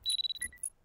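Alarm clock going off in Chilla's Art horror game Parasocial, a short burst of rapid high electronic beeps followed by a few brighter chime tones, close and clear with no talk.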